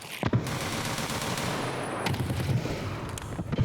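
Grenade blast and gunfire in a first-person shooter game: sharp bursts near the start and again midway, with a rumbling, noisy battle bed between and little speech.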